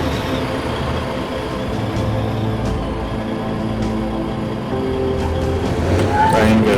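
A truck engine in the war game Foxhole drones steadily as the vehicle drives, a constant rumbling motor close up with some mechanical clanks, while a voice talks faintly at times.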